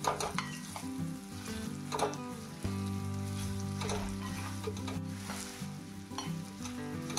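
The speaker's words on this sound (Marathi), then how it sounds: "त्याच्यामध्येच आपण हे कैरीचे काप घालू, याला छान असं मिक्स करू" Peeled raw mango slices being stirred into a hot pan with spices and asafoetida, a soft sizzle with scraping spatula strokes and light clinks of utensils against the pan at a quiet level.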